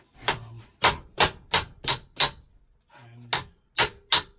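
Hammer tapping a steel beaver panel into shape, a run of sharp metallic taps in a fairly even rhythm with a short pause midway, close and clear with no talking.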